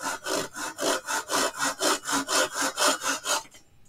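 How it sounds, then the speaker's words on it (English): Hand saw cutting wood held in a miter box: about thirteen steady, even back-and-forth strokes, close and rhythmic, ending as the cut finishes, with no voices. "I'm going to keep my saw nice and square to the miter box, nice and lined up, standing right behind it."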